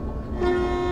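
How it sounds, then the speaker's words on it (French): A train horn in the Derail Valley train-driving video game sounds a sustained tonal blast that swells after a brief lower start, loud and close. "Klaxon est rendu pareil."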